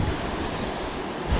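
Winter northwest wind gusting over waves at a seaside breakwater, a dense, steady roar of wind and surf filling the short stretch with no voices.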